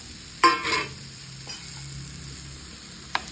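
Sliced banana dropped into hot ghee in a pan, giving a sharp burst of sizzling near the start that quickly settles into a soft, steady fry with a faint clink near the end.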